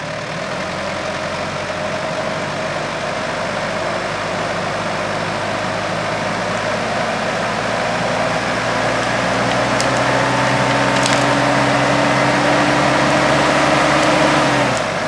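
Four-wheel drive vehicle engine idling low and steady, then gradually straining and rising in pitch as it pulls on a hazel withy looped around a tree, a continuous heavy drone throughout with no talk.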